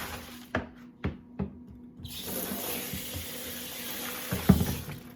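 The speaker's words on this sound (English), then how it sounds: "I'm just going to go ahead and go to a last cold rinse." Tap water runs steadily into a sink for a final cold rinse of tie-dyed fabric, a continuous close rush after a few knocks and clunks at the start, no talk.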